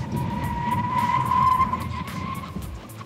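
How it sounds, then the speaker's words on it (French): A 2018 Volkswagen e-Golf brakes hard with its tyres skidding, producing a sustained high squeal that rises to a peak and then fades over a rough road rumble, with no voices. "le freinage beaucoup plus prompt qu'avec la Bolt, ça c'est certain, et la voiture est plus stable"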